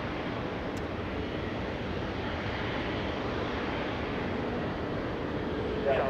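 An airplane at Los Angeles International Airport produces a steady, loud jet roar that holds unbroken throughout.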